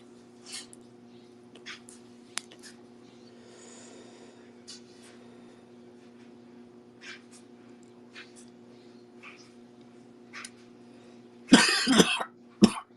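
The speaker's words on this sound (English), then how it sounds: "so you can listen to me cough" A person coughs in a harsh, loud burst of several coughs near the end, close to the microphone, after a long stretch of quiet room tone with faint scattered clicks and sounds.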